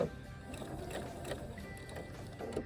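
A sewing machine makes a short back stitch at a seam on a fabric Easter bunny treat holder, a faint, steady mechanical whir with soft rhythmic clatter throughout.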